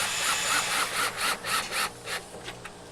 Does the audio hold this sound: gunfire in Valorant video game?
no